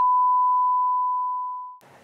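A censor beep in a vlog: one steady pure electronic tone held for almost two seconds, fading gradually before cutting off into a brief burst of noise.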